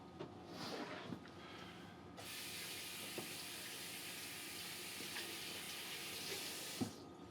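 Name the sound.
hand being rinsed under a tap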